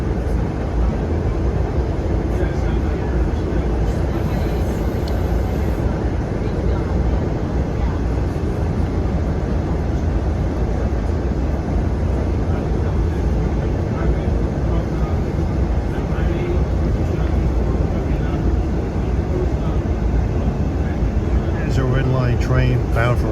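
Steady low rumble of an MBTA commuter train, No. 1008, running from Middleborough toward Boston, continuous broadband rolling noise with no talk over it.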